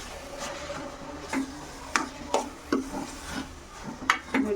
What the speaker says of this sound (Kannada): ಇವಾಗ ಇದನ್ನು ಇನ್ನೊಂದು ಹೀಗೆ ಮಿಕ್ಸ್ ಮಾಡ್ಕೊಳ್ಳೋಣ